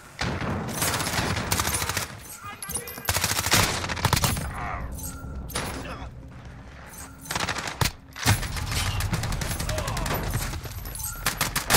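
Video game gunfire in an online shooter, heard as loud rapid bursts of automatic fire broken by short pauses, with faint voices now and then underneath.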